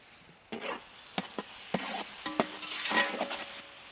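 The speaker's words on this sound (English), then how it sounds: "Saute well for the stuffing." Bread pakoda stuffing of green peas, green chilies and chopped ginger is sautéed in a pan: a spoon scrapes and knocks several times over a soft, close sizzle.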